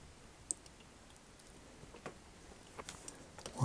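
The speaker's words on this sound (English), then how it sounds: "I'll just mark that with a knife, and I can carefully cut that off" Faint sharp clicks and small snaps come from a knife scoring and cutting a plastic toy antenna piece for a Transformers G1 Kickback repair, scattered irregularly and ending in a slightly louder crack.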